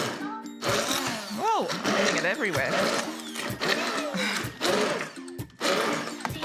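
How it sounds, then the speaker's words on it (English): Hand blender whirring as it mashes refried beans, a buzzing motor with rising and falling pitch in short bursts, while a person talks over it. "And I just use the hand blender."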